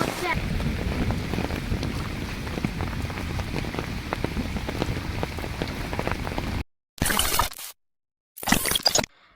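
Steady rain falls at night in a garden, pattering on surfaces, continuous and fairly close, then cuts out briefly before returning in short bursts.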